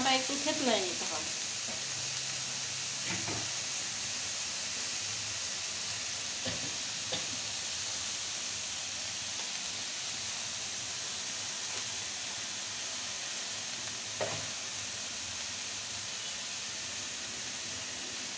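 Whole spices, including crushed cardamom and cloves, are dry-roasted in a pan without oil. A soft, constant sizzling hiss is broken by a few scraping stirs near the start and occasional faint knocks.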